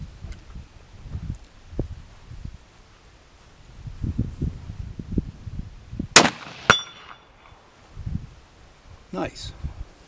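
.308 rifle loaded with 180 grain bullets fires a single sharp shot outdoors, followed by a ringing metallic clang from a distant steel target, with people talking quietly before and after.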